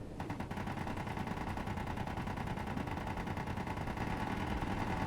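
Automated turrets in Space Engineers firing at incoming rocks: a steady, unbroken stream of rapid fire that holds at an even, moderate loudness from start to end.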